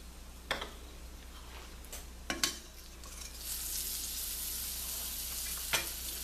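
Broccoli frying in butter in a pan, a soft steady sizzle with a few sharp utensil taps, and the hiss grows louder and brighter partway through.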